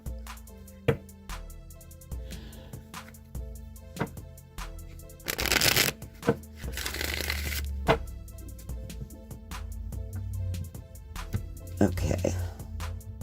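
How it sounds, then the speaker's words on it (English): A Rider-Waite tarot deck being shuffled in bursts, with crisp riffling and sharp card taps, then a couple of longer ruffling runs, all near and clear. "I'm going to go ahead and shuffle the Rider-Waite deck"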